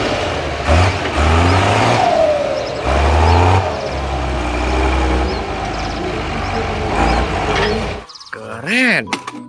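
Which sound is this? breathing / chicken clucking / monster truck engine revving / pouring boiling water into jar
monster truck engine revving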